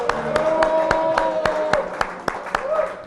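An audience claps for a band at the end of a live show, a modest round of sharp, scattered hand claps while someone speaks over them.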